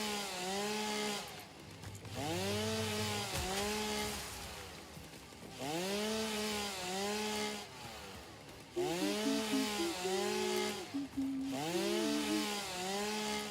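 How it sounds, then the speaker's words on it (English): Chainsaw sound from the Satisfactory video game, a buzzing saw engine revving up and down repeatedly in rising and falling sweeps, steady and fairly loud, with brief pauses between runs. "I'm really sorry for anyone who gets annoyed by the chainsaw sound."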